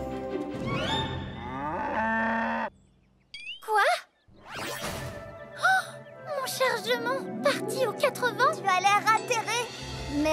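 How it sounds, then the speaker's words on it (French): Cartoon dairy cows moo in a few drawn-out calls from a farm scene, mixed with bright music and a child's gasp, with voices speaking between the sounds. "Salut les vaches à lait J'ai du foin tout frais"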